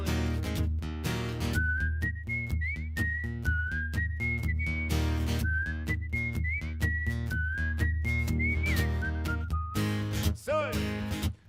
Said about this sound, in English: Oh, more whistling.